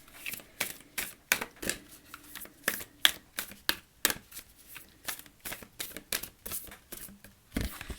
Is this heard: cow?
no